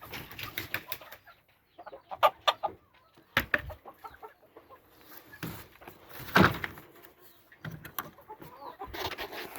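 Hens and a rooster in a backyard chicken pen, including a flary-eyed gray hen and a gold-colored crossbred male, clucking in scattered bursts with occasional flapping and knocking, fairly close and lively, with no speech.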